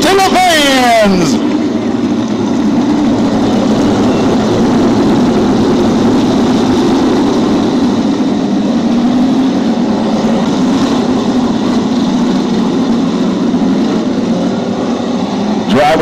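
Race car engines at Desoto Speedway run in a loud, continuous low roar that holds steady throughout, with an announcer talking over the din.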